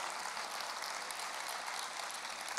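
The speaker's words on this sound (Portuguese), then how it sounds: "vamos aplaudir ao Senhor" A church congregation applauds in a steady, continuous patter of clapping that sounds somewhat distant and even in level, without any speech over it.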